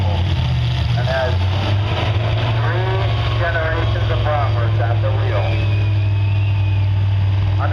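A tractor that has run at The Buck tractor pull every year since 1974 holds a steady, loud, low engine drone throughout, with a commentator talking over it.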